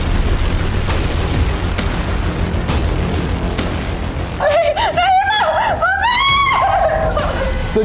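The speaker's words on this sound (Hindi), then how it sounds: "ये चीख सुनाई दी किसकी है?" A woman's high, wavering screams rise over a tense crime-drama scene in Haryana, starting about halfway through with rising and falling cries above steady background noise.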